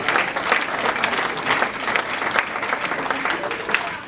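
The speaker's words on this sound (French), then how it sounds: "Est-ce qu'on peut acclamer pour notre frère?" A church congregation applauds steadily and warmly, dense clapping from many hands filling the room without a break, with voices mixed into the crowd noise.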